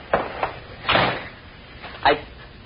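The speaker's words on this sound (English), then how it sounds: "Shut the door after you come in, Andres." A door shut indoors in a cottage during an old radio drama, giving three separate thumps, the middle one loudest, spread over about two seconds with no voices.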